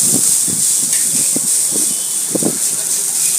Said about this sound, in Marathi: आता आपण पहिला कांदा भाजून घेणार आहे हे सगळं भाजून घ्यायचं